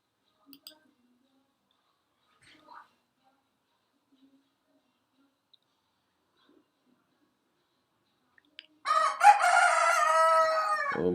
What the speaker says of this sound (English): Oh my god, what's up with this rooster, man?